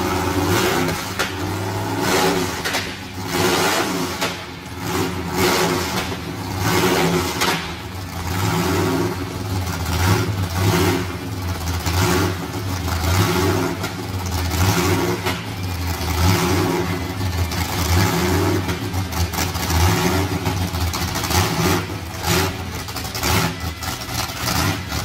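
Car engine revving up repeatedly in a steady, loud mid-range roar with rising and falling surges, sustained close by, with no talking.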